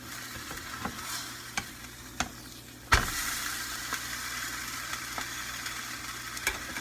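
A quesadilla burger sandwiched between tortillas fries in a pan, with a few light taps before a firm thump as it is flipped. A louder, continuous sizzle follows, broken by occasional small spatula knocks.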